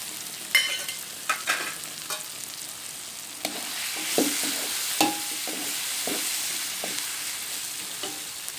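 Tomatoes go into a frying pan for Tamil country chicken curry, giving a steady sizzle with a few sharp stirring scrapes and clinks of a spoon, close by and without talk.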